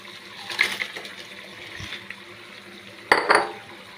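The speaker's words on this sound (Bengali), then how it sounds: "এবার চুরচুর করে রাখা পাঁপড়গুলো দিয়ে দিব" Crushed papad is tipped into a pan of potato curry, making a few quiet rustles and clinks followed by a sharper scrape and clatter near the end, close and brief.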